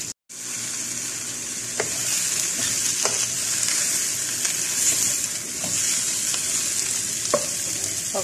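Round beef frying in a pan with chopped onion and garlic, a loud continuous close sizzle with crackles and occasional stirring scrapes, no talking.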